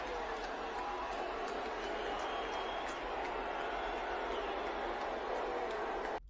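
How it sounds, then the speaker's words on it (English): A comedy show audience boos a comedian for naming Elon Musk as a friend, the crowd's dense, sustained jeering holding steady at full volume before cutting off abruptly at the end. "You can hear the boos in the background,"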